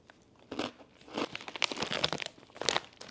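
Cinnamon soy-protein pretzel rings are crunched while eaten, several bursts of crisp crackling chews close to the mic, with no talking over them.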